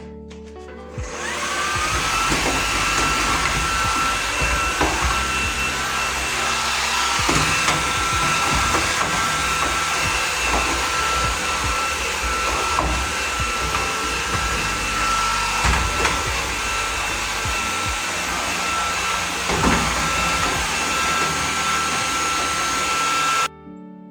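A LEVOIT cordless handheld vacuum cleaner runs with a steady, close whine as it sucks up small rocks from steps, with scattered rattles and ticks of debris through the continuous drone before it cuts off at the end.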